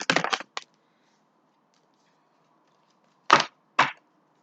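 Tarot cards shuffled during a Capricorn reading, heard as a quick flurry of crisp riffling slaps at the start, then two separate short card snaps a few seconds later, close and alone with quiet between.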